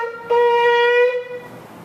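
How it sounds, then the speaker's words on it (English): A shofar sounds a single sustained, slightly wavering horn tone lasting about a second, loud and clear with a short echo tailing off, for a tkiya, trua, tkiya sequence. "According to Rashi, tkiya, trua, tkiya could sound like this."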